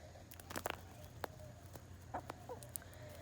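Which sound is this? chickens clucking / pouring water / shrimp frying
chickens clucking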